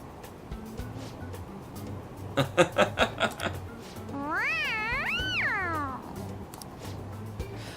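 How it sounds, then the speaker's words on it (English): A quick burst of chuckling gives way to a long, wavering two-part meow from a cat in the video game Persona 5, over a faint low background hum. "They're gonna hear you meowing no matter what you say."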